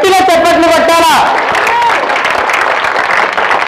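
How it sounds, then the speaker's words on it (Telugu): Audience at a women's community gathering in Shirivella applauding loudly, a dense wash of many hands clapping that rises as a voice fades out and then continues steadily. "గట్టిగా చప్పట్లు కొట్టాలా"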